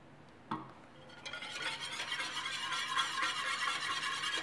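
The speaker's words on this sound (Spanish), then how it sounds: "Voy a agregar también un poco de aceite de ajonjolí." Sesame oil poured onto pork for an oriental-style dish in a home kitchen, heard as a steady sizzling hiss building after a brief clink and continuing loudly to the end.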